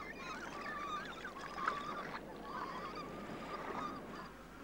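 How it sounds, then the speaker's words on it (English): Several flightless steamer ducks call from below on a Falklands coast, a run of harsh honking cries repeating over steady wind and surf noise, moderately distant. "That's a family of flightless steamer ducks down below."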